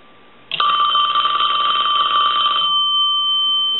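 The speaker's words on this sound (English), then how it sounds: "So I'll go ahead and plug the telephone in, and I want to ring it." A Pink Princess telephone, under repair and conversion, rings loudly on its bell, a sustained close metallic trill starting abruptly and lasting about two seconds before a softer lingering tone remains.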